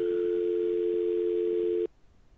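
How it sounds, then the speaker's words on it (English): A steady telephone dial tone on a webinar conference call holds loud and unbroken for almost two seconds, then cuts off abruptly into near silence. "that person is a dial tone"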